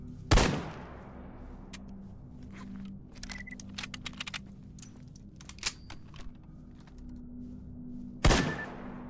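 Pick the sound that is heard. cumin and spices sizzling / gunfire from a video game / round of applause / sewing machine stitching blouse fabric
gunfire from a video game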